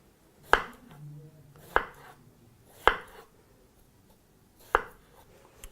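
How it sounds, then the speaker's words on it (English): A knife chops potatoes into thin matchstick fries on a board, four sharp, well-spaced cuts sounding close and clear over a quiet kitchen background. "proceed to grab your potatoes now and proceed to slice those into fries"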